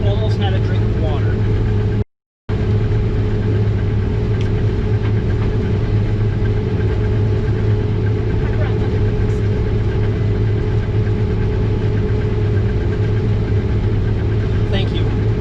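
The engine of a combine harvester drones steadily while it harvests soybeans at almost 5 miles an hour under about 90% engine load, a loud, even hum with one brief dropout.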